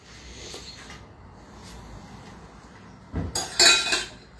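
A pot of sugar syrup is shifted onto another burner of a gas stove, making a brief metallic clatter and scrape near the end after a quiet stretch of kitchen background.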